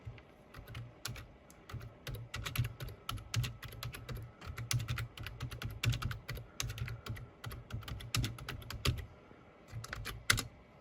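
Keys clatter steadily on an Archos 9 tablet keyboard as a document is typed, a quiet and close run of rapid clicks in bursts with brief pauses.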